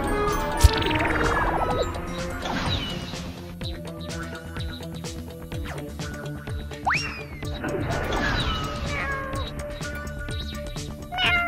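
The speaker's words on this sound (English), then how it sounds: "We've got to save that cat." A cartoon cat in a kids' rescue show with toy-like cars lets out several drawn-out, rising and falling meows, mixed with bouncy sound effects and music, loud and close throughout.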